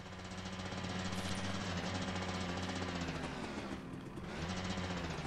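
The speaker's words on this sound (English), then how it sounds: "I think I'm gonna need a hammer." Hammering on a broken sign in A Way Out comes as a dense, continuous rapid banging. It stays loud and steady throughout, with a brief dip near the end before picking back up.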